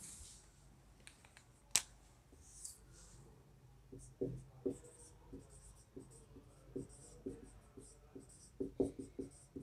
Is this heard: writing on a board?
yes